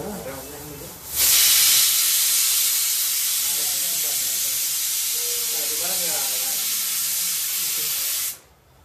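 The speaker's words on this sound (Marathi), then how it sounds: "कुकरच्या आमच्या या ठिकाणी 2 शिट्ट्या सक्सेसफुली कंप्लीट झालेल्या आहेत." A pressure cooker at a home party lets out a loud, sustained steam hiss lasting about seven seconds before cutting off abruptly, with faint voices underneath.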